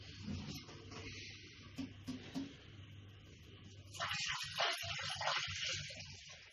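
Homebrewed Weissbier wort with a Hungarian twist is poured into a fermenter. The first few seconds are quiet, then a loud, splashing gush of liquid rises and runs for a couple of seconds.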